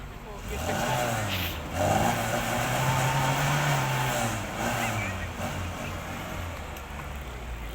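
A car performing at a UK stunt driving show, its engine revving and rising in pitch as it accelerates and manoeuvres nearby, with someone talking over it.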